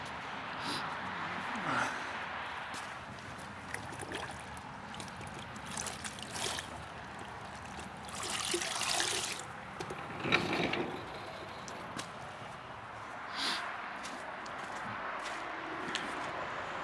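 A dirty car wash sponge being rinsed in a bucket of rinseless wash solution, with sloshing and dripping water splashes, a stronger squeeze and splash in the middle, close by.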